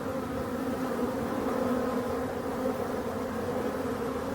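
Honey bees buzz in a dense, continuous drone just in front of a busy hive at an apiary in Brittany, holding steady and close throughout without any voices.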